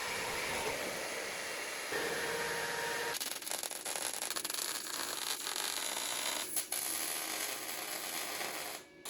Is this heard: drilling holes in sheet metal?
yes